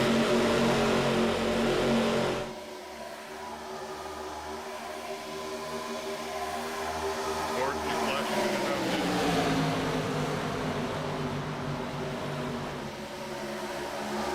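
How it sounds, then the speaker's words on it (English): Race car engines in the iRacing video game during an ARCA Series broadcast at Michigan, a steady droning roar of several cars that drops briefly then holds loud and continuous, with no talk. "Hopefully you can hear the engine sound now."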